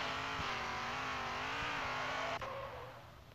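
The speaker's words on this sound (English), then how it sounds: "Drifting. Getting the rear out." A Seashark (Buick GSX) drifting in the video game Demolition Derby 3: a loud, sustained engine roar with a steady pitch that drops off at the end as the car's sound fades.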